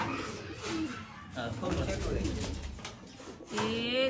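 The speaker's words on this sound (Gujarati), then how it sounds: "માંડ અહીંયા કબૂતર આવ્યા છે ખાવા." Pigeons coo near at hand as they come to eat, with low, throaty calls rising and falling while voices are heard in the background.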